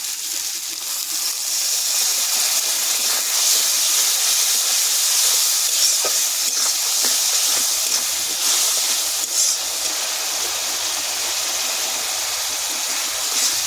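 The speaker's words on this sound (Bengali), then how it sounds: "জল দেবো" Water poured into a hot pan while cooking Bengali satin fish curry with taro and potato, giving a loud, steady steam hiss that fills the whole stretch, close up and with no talk.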